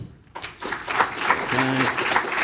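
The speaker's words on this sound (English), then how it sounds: "round of applause again" Conference audience at a programming-language lightning talk session breaks into applause after a brief quiet moment, dense many-handed clapping building quickly and sustained to the end at moderate loudness.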